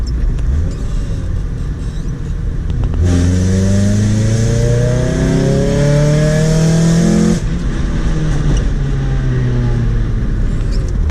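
A Nissan Sentra SE-R Spec-V engine with aftermarket exhaust headers revs loudly and roughly through a raspy exhaust, climbing in pitch for several seconds before dropping back to a rumbling idle.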